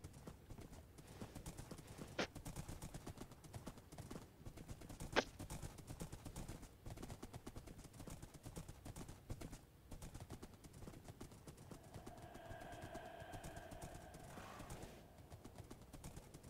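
Horse hooves clip-clopping in Minecraft, a steady rhythmic patter of soft hoofbeats continuing throughout, with a couple of sharp clicks and a short whinny-like tone near the end.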